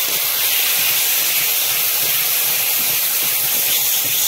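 Bengali masala spice paste frying in oil, with tomato added, giving a loud, steady, close sizzle and hiss that continues without a break.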